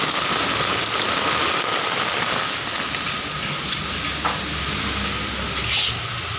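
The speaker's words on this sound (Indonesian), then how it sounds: "Sangat lebat sekali ini hujan di hari Sabtu tanggal 22." Heavy rain pours down in a dense, steady hiss, close and loud, with a few faint clicks and knocks over the downpour and no talking.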